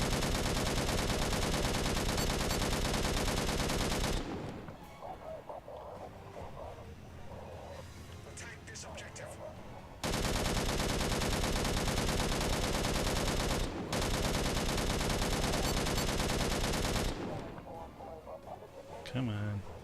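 Dense bursts of rapid automatic gunfire from the video game Angels Fall First come in long loud stretches, separated by quieter gaps of softer game sound.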